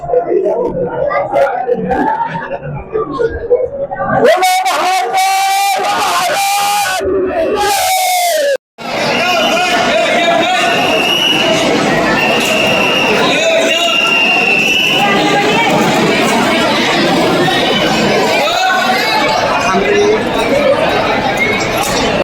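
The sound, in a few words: crowd of devotees at Mahakaleshwar temple, Ujjain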